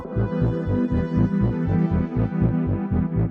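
An IK Multimedia Syntronik OXa synthesizer plays a low, pulsing bass line with tape echo, a steady throbbing rhythm of repeated notes that sits loud and alone without any voices.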